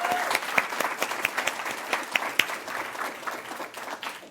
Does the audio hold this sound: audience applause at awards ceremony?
yes